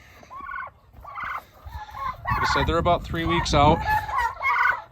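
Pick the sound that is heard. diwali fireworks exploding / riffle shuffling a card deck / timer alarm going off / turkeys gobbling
turkeys gobbling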